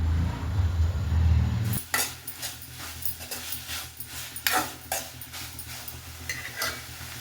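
Grated coconut being stirred and roasted in a pan, a spoon scraping and clinking against the metal in an irregular rhythm, with a low sizzle underneath; loud and close, with no talk.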